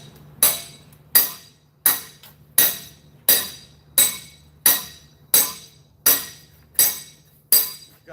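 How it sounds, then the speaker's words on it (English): Cylinder sleeves come out of a Detroit DD15 engine with a sleeve puller during teardown. About a dozen sharp metallic strikes ring out at a steady, even rhythm, each one fading quickly. "I came up with this technique to remove cylinder sleeves with a sleeve"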